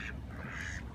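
Ducks quack at a lake in Lake Balboa Park, a short nasal call over steady outdoor background noise, fairly close and moderately loud.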